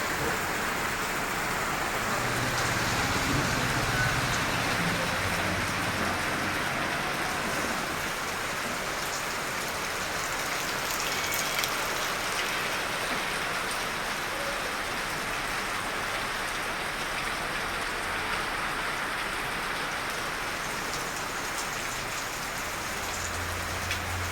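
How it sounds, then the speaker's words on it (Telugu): Heavy evening rain pours down over the town of Kollapur, flooding its streets, as a dense, steady hiss of downpour runs on unbroken and fairly close, with faint low traffic rumble underneath and no talking. "కొల్లాపూర్లో భారీ వర్షం పట్టణమంతా జలమయమైంది"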